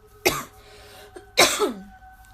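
Two close, throaty coughs separated by about a second, with a rough, raspy tail on the second.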